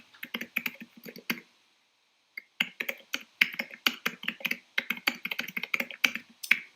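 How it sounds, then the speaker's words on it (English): Rapid bursts of typing on a computer keyboard, clustered key clicks in quick irregular runs with one pause of about a second midway, close and fairly quiet, no voices. "Are you typing that at the moment?"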